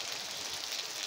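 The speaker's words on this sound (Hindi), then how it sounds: "पहाड़ों में ज़बरदस्त मूसलाधार बारिश लगी हुई है।" Torrential monsoon-style downpour in the mountains, a dense steady hiss of heavy rain with no breaks, close and loud throughout the short stretch.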